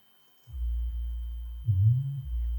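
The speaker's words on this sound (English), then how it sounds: "So if I play the sub bass without any of these overtones" Pure sine-wave sub bass played in Ableton Live, a deep clean low tone that starts abruptly, holds, swells briefly with a slight pitch bend, then settles back to a steady hum, with no talking.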